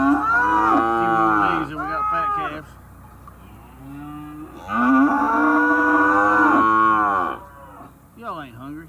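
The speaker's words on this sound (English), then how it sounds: "We moved the fat calves to a different pasture." Fat calves mooing in a pasture, several loud, close, drawn-out moos overlapping one another with brief pauses between, and no talk.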